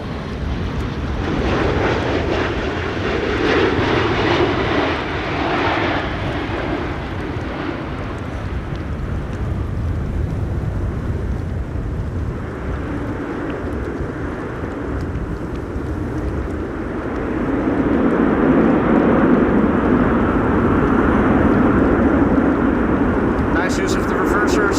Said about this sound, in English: This is Delta Airlines Flight 136, arriving from Detroit, Michigan.